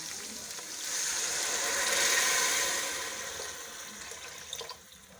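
Two glasses of water pour into a pot of frying beef keema with peas, a rushing splash that swells then fades into sizzle and a few small knocks, close and alone.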